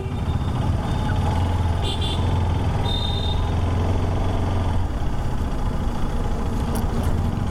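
A Bajaj Pulsar RS 200 motorcycle engine runs with a steady, close low drone and rumble throughout, with faint brief tones in the background.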